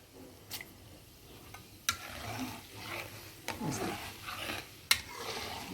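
Urad dal sizzling and frying in hot peanut oil in a pan, a steady close crackle with occasional stirring scrapes and sharper pops, no talking.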